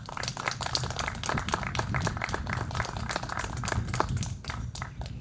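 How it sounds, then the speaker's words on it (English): A graduation audience applauding the speakers, with steady, close clapping from a modest crowd throughout. "So can we have a round of applause once again for all of the speakers today?"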